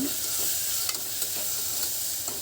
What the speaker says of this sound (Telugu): అల్లం వెల్లుల్లి పేస్ట్ వేగిన తర్వాత